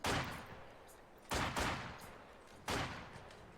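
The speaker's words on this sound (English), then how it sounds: "So I just made the mortar, 120mm mortar, and we're going to start clearing out the middle and hopefully push through." Three heavy 120mm mortar rounds fire in Company of Heroes 2, each a loud, close, booming blast with a long rumbling decay, spaced roughly a second and a half apart.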